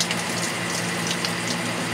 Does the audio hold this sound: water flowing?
yes